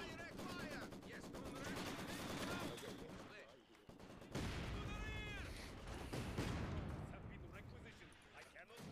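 Video game Maxim machine gun barrage, rapid sustained automatic fire with overlapping distant shots and booms in a battle, continuing under voices talking.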